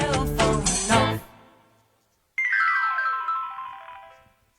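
A cell phone ringtone plays in a bright, melodic burst, stops, then sounds again with a falling, sweeping tone before fading out, loud and alone.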